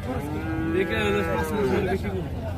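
A young Friesian heifer calf moos nearby in one long, loud, drawn-out call at a cattle market.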